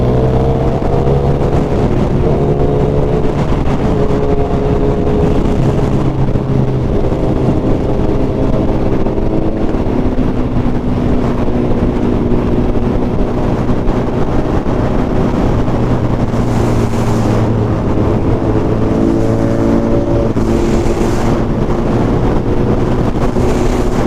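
A group of Suzuki Hayabusa motorcycles ride together at Dubai bike night, giving a loud, continuous engine drone with rising and falling revs under heavy wind buffeting, with no talking.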